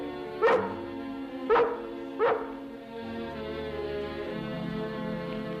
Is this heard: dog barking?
yes